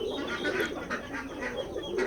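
Pigeons on a farm in Keshabpur, Jessore, give faint, steady bird calls and cooing against a constant background hum for about two seconds, with no talk.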